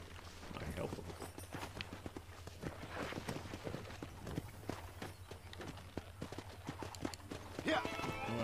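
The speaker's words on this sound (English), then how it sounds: "Let's see if we can't wrangle some horses." Horses trot and canter in a Red Dead Redemption horse-wrangling scene, a busy, rapid clip-clop of hooves under steady talk, with a brief whinny near the end.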